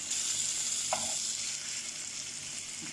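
Tandoori chicken pieces sizzle in a pan as they are flipped, giving a steady bright frying hiss with a brief scrape of turning partway through, close and without talk.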